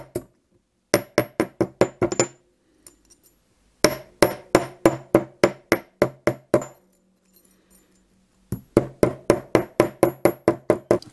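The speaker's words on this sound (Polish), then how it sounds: "Blaszkę za pomocą młotka wyrównałem." A hammer taps a thin metal sheet flat, giving quick, bright metallic strikes in three rapid bursts separated by short pauses, close and alone.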